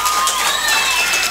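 An audience bursts into loud, dense clapping and cheering at a comedy stage event in honour of Kadamangalam Murugan, a brief, continuous wash of applause from a crowd.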